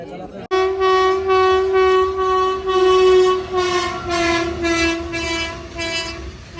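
A fast freight train on a dedicated freight corridor passes alongside a moving passenger train returning from the Prayagraj Kumbh Mela, its loud sustained horn blaring over the rumble and clatter of the rails.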